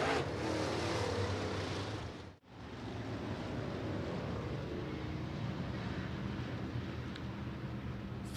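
Late model race cars racing at Interstate Speedway during a 25-lap A main event, a loud continuous roar of engines at full throttle, briefly dropping away as the pack passes, then building back into a sustained wall of noise.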